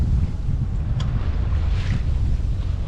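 Steady wind rushes over a sailboat with water hissing along the hull, broad and continuous, with no voices.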